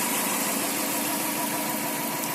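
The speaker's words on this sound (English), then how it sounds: "But as you can hear, the engine is running perfectly fine." A 2005 Subaru Impreza WRX with a 2.0L turbo engine idles steadily, a close, continuous mid-range rumble with a constant loud drone and no talk.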